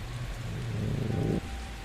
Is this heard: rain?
yes